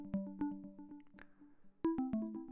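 A plucking echoes synth hook for an EDM track plays a minimalist, percussive pattern of short plucked notes, each trailing a faint echo, quiet and alone with a brief gap mid-phrase.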